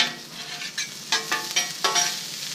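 A breakfast sausage fatty browns on a 17-inch portable Blackstone griddle, with a close, steady sizzle and several sharp scraping spatula strokes spaced about half a second apart.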